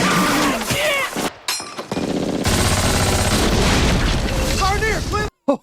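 Light machine gun fire during a World War II battle scene in Carentan, France, from the Band of Brothers series: loud, dense bursts with booms, mixed with shouted voices, cutting off abruptly near the end.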